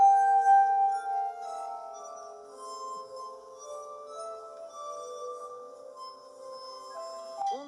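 Tuned drinking glasses and tubes are played as musical instruments in a theatrical concert for schoolchildren, giving clear, sustained glassy tones in a slow melodic line. A bright clink sounds near the end, with no talking.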